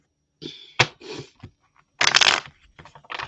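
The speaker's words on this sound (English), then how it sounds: "Just let me give them a good shuffle" A deck of Witch's Tarot cards is shuffled up close in quick bursts of riffling and slapping, with short pauses between the bursts and no talk.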